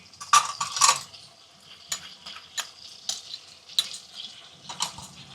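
Ground sesame and peanut powder are stirred into a sizzling onion-tomato gravy for Gujarati whole-onion curry, with sharp scraping clinks of a spoon against the pan at irregular intervals over a soft sizzle.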